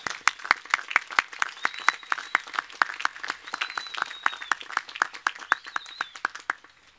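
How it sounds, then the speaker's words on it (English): Graduates at a commencement ceremony get applause from a modest crowd: sparse, distinct individual claps in an irregular patter, fairly close and steady throughout, with a few faint whistles or cheers over it. "How about a nice round of our applause for our graduates?"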